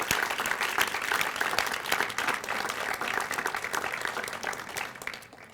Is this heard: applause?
yes